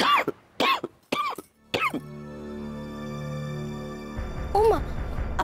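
A woman in a Bengali TV drama scene coughs four times in quick, close bursts, followed by a sustained musical tone and brief soft background sounds.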